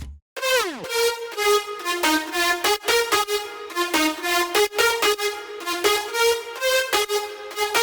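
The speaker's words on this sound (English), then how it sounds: "And I also made a tape stop automation," A synth melody opens with a tape-stop effect, its pitch sliding sharply downward, then bright layered leads bounce along in a quick, steady pattern.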